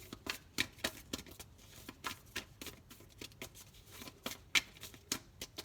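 Tarot cards shuffled by hand in a quiet room, a run of soft, crisp riffling bursts in an uneven rhythm, close and faint.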